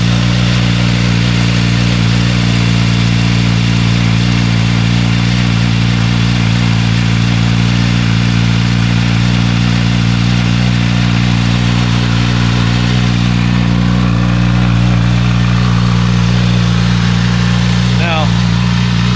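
A 2024 Suzuki Katana motorcycle with the stock exhaust idles nearby, a loud, even, low-pitched thrum holding steady throughout with little variation.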